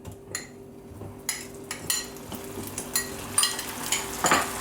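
Butter melting into hot, very dark caramel for caramel lollipops gives a soft sizzle with intermittent crackles and spatters, plus occasional clinks of a utensil against the pan, close by and moderately quiet.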